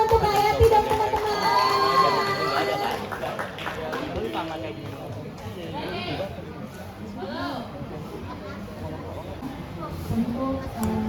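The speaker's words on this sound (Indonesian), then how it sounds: "Sekali lagi tepuk tangan untuk Hayati dan teman-teman" An audience at a business pitch event by participants with disabilities cheers, shouts and claps, a busy crowd din with voices heard throughout the clip.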